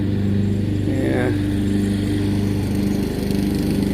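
A ride-on lawn mower engine drones steadily nearby with a throbbing mid-pitched hum, while a person speaks briefly over it.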